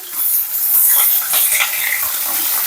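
Dry chillies and bay leaves frying in hot oil, giving a steady close sizzle and hiss with faint stirring scrapes, no voices.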